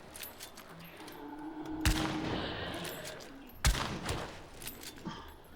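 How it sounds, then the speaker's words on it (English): Video game gunfire heard as two sharp, loud shots a couple of seconds apart, each followed by a rattling burst, over a low, busy game background. "Are you shooting? Yes."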